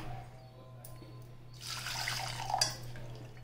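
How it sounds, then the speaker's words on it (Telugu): Faint room hum, then a short gush of water poured into a pressure cooker for about a second and a half before it stops. "నీళ్ళు పోసుకున్నామండి."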